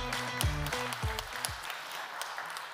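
Audience applause at a business leaders' awards gala in Poznań, a steady wash of clapping with a few sharper hand claps and faint musical tones underneath, moderately loud and continuous.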